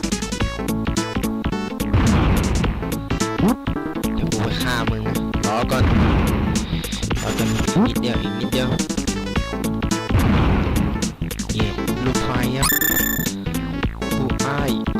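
Bomb blasts in the classic video game Bomberman 2, repeated booming explosions over constant chiptune game music, loud and steady.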